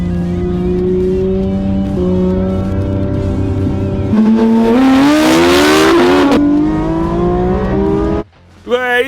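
A Porsche race car accelerates hard from a standing race start, its engine revving loud and close and climbing through gears with tire squeal, then cutting off sharply near the end while people talk over it.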